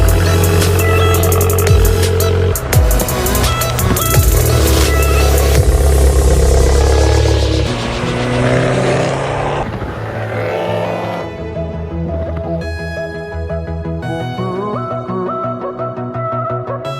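An Abarth 595 engine runs loudly throughout while driving, with rising and falling revs and a steady mechanical drone.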